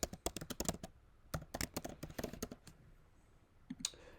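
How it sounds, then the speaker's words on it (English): Quick bursts of clicky keystrokes on a computer keyboard come up close, a pause in the middle, then a few more taps at the end. "So we'll type something in here like"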